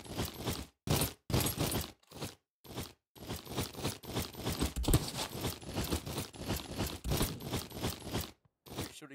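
Gunfire rattles in the Bad Business shooter game, coming as dense, loud volleys that repeat close to the listener and are broken by brief gaps of silence.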